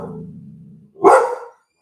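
A single loud dog bark, close by and brief, following a stretch of low murmuring background sound.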